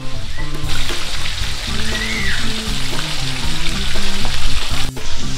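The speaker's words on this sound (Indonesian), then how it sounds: "Jadi goreng ayamnya." Chicken pieces fry in a big batch of hot oil at Ayam Pedas 88, a spicy chicken eatery in Blitar, giving a loud, steady, close sizzle with soft music faintly underneath.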